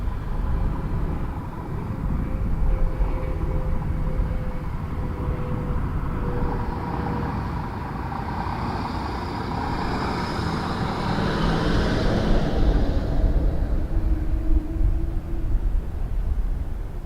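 An Air Canada jet airliner taking off from runway 05 at Toronto Pearson Airport, a broad distant engine roar building and swelling over the clip, with a faint background drone.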